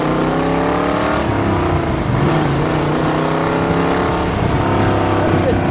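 A 1959 Chevrolet Corvette convertible with a 4-speed accelerates hard in second gear, its loud engine roar climbing steadily in pitch throughout, heard close from inside the car.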